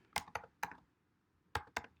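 Five quick, close clicks of keys on a computer keyboard, in two short bursts with a brief pause between them.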